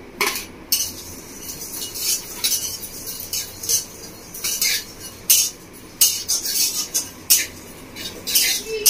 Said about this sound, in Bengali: 1 চামচ গোটা ধনে আর কাস্তুরি মেথি দিয়ে আমি শুকনো করে ভেজে নেবো